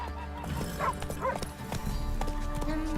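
A horse gallops in The Witcher 3, its hooves pounding in a steady rhythm under game music and ambient noise, with a brief whinny-like sound partway through.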